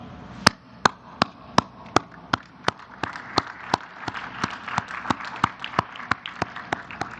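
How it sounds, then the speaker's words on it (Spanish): Sharp hand claps ring out in a steady beat at a press conference in Tepic, Nayarit. The clapping grows quicker and fuller toward the end, loud and close, with no speech on top. "Un aplauso"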